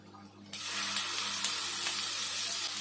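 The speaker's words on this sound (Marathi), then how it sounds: "इथे एक पळीला थोडं कमी मी तेल टाकते कढीपत्ता टाकूया आणि आपण हे जे वाटण वाटून घेतलेलं आहे ना हे आपण ह्याच्यात टाकूया" Ground masala paste with curry leaves drops into hot oil in a kadai for a spicy Maharashtrian mutton curry, bursting into a sudden loud, steady sizzle and crackle that holds with no one speaking.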